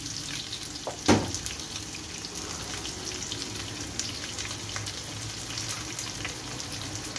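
Onion frying in oil in a pan for a shrimp and sayadieh rice dish, giving a steady, dense sizzle throughout with one brief louder clink near the start.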